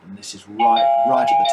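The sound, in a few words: doorbell ringing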